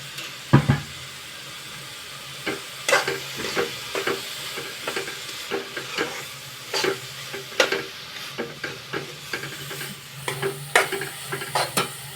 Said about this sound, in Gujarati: થોડુંક તેલ નાખું છું એકદમ સતળાય છે